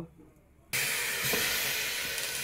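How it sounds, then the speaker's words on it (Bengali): Chopped banana stem (thor) set to boil in a pot gives off a loud, steady steam hiss that starts abruptly after a quiet moment and continues evenly throughout. "থোড় সিদ্ধ করতে দেওয়া হচ্ছে এখন।"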